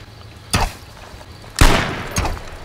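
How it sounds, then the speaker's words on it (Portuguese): Gunshots in the online battle game H1Z1: three sharp, loud blasts spaced irregularly, the middle one heaviest with a longer tail, and no talk over them. "Tu vai atirar, ele errou o tiro"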